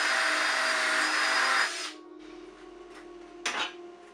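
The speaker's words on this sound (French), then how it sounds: "on met on utilise la dernière mèche" A drill boring a hole with its last bit while making a homemade fencing foil, a loud, steady close whine that stops suddenly, followed by quiet and a brief scrape.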